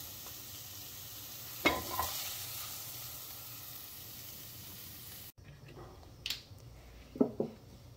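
Brinjal pieces sizzle steadily in hot oil in a pan, a continuous close frying hiss with a couple of stirring scrapes, followed by a quieter stretch with a few clinks and clatters.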